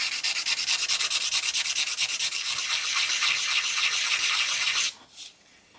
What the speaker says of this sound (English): Take a piece of sandpaper and just clean it up like this.